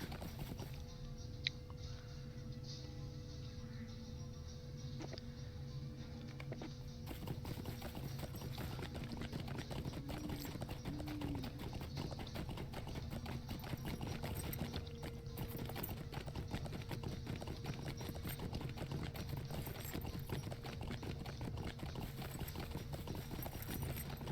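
Horse mount hooves clip-clopping in Lord of the Rings Online, a steady continuous trot over game ambience and music, moderately loud throughout with no talking.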